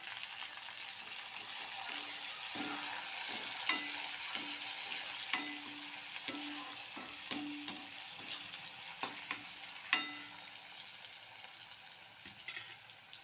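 Tomatoes and onions frying in a pan for potato curry, a steady sizzle with a spoon scraping and stirring in light, irregular knocks throughout, close and alone.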